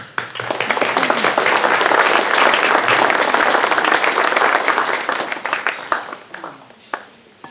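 An audience applauds steadily as a speaker is welcomed to a talk on saving Lakeside, with loud, dense clapping that holds for about six seconds and then thins into scattered claps.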